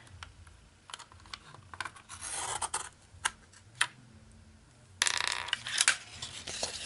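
Paper being cut and trimmed on a mini alphabet punch board, heard as close, soft scraping and sliding strokes with small clicks and taps in irregular bursts and no talking.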